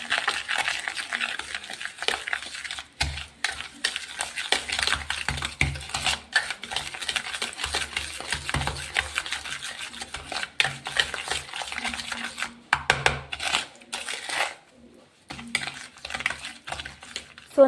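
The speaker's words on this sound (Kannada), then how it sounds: "ಇದನ್ನು ಚೆನ್ನಾಗಿ ಮಿಕ್ಸ್ ಮಾಡಬೇಕು." Oil being mixed by hand into eggless chocolate cake batter in a bowl, a steady close scraping and clicking stir that runs continuously with short breaks.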